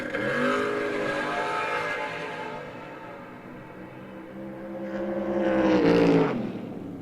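Drag race cars, including the Jerry Haas Firebird, launch off the line with a loud engine roar that holds steady, dips briefly, then swells to a peak near the end.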